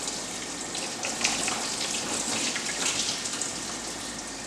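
Engine coolant gushes steadily out of the thermostat housing of a 2005-era Challenger, Charger, 300 or Magnum after the stock thermostat is pulled. The splashing flow is continuous, close and fairly loud, with no talking.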